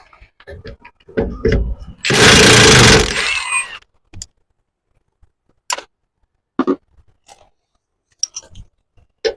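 An impact wrench zaps a nut off RV suspension in one loud burst of about two seconds, followed by scattered clanks and taps of tools on metal.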